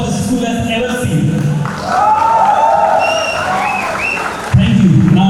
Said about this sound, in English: you all will welcome Rajiv Ranjan with one of the best applause this school has ever seen